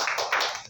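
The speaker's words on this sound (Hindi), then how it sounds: "तालियां बनती हैं।" Audience applause during a product presentation at a business gathering: a brief, moderately loud burst of many hands clapping, with no one talking.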